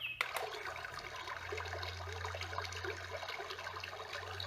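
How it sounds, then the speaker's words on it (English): Babbling brook track from a bedroom sound machine: steady trickling, gurgling water with a low constant hum beneath, even and moderately quiet throughout, no voices. "brook"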